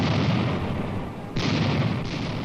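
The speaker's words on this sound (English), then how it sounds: "Entire villages of kulaks are wiped out by Soviet cannon fire." Soviet cannon fire booms in a heavy, rumbling barrage, with one sharp blast cutting in partway through and another soon after, loud and close.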